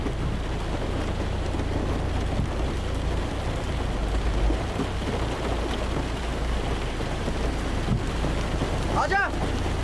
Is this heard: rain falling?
yes